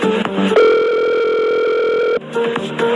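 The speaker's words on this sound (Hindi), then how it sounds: "काफी घंटी बजने के बाद आखिरकार किसी ने फोन उठाया।" A telephone sound effect in a narrated story: a few quick dialing tones, then a loud, steady ringing tone held for over a second, followed by more short tones. No voices.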